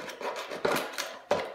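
Scissors cutting around a plastic bottle, a few crisp snipping crunches in quick succession at close range, with no talking.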